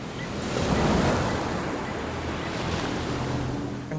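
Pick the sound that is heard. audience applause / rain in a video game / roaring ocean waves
roaring ocean waves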